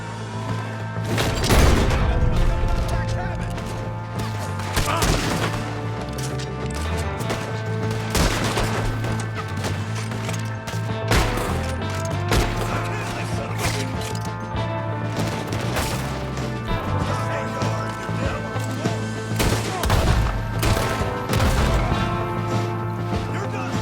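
Rapid gunfire from a shootout in Red Dead Redemption 2, a tower nearby, repeated loud shots and bursts throughout with crashes, under occasional shouted talk.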